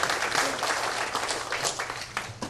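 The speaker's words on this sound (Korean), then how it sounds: "한 번 더 좀 박수, 감사의 박수 한번 해주시면" Seminar audience gives a round of thank-you applause, dense close clapping that stays fairly steady through the brief stretch with slight swells.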